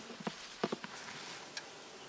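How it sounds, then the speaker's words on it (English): Faint, scattered buzzing of honey bees at an apiary hive lid in short bursts, a few close passes against a quiet background. "There you got bees on the lid."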